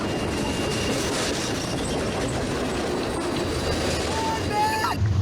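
A freight train rolls past in a loud, steady rumble of wheels on rails, with brief squeals of wheels near the end and a voice talking over it.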